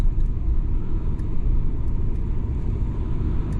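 A vehicle fitted with wheel spacers rolls through a large mud puddle on a dirt track, giving a steady, loud low rumble of engine and tires throughout with no talk.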